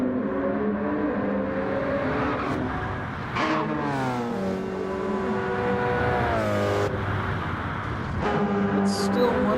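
Porsche 919 LMP prototype race car at Lago Maggiore in Gran Turismo 7, engine droning and rising in pitch through gear changes, steady and fairly loud under commentator talk.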